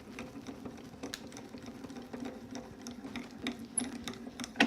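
Die-cutting and embossing machine cranked by hand with a paper die on an embossing mat, giving a steady faint ratcheting, clicking mechanical grind up close.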